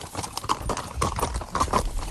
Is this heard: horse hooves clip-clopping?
yes